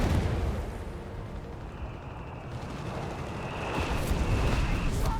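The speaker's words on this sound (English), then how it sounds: "Got a lot of mortar fire there from the mortar half-tracks." Mortar half-tracks fire in a Company of Heroes 3 battle, a dense rumbling barrage of dull distant booms and explosions rolling continuously, swelling louder toward the end.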